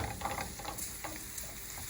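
Thyme sautéing in a hot pan for fish pastelles, a soft, low-level sizzle with faint utensil scrapes, brief and quiet throughout.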